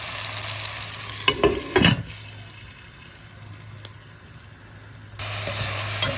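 Tomatoes and onions with rock salt are stirred in a pan for a spicy crab gravy: a couple of close spoon scrapes over a low sizzle, which swells louder toward the end.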